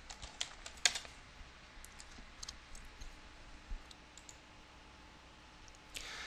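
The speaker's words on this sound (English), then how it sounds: "maybe I type my password wrong" Keys tapped on a computer keyboard while entering a password during a web database install, a few scattered soft clicks in a quiet room with no talking.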